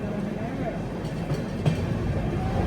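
The Pinakini Super Fast Express (12711) on its Vijayawada to Chennai Central run rolls along with a steady, loud rumble and faint rail clatter, heard from close by and continuous throughout.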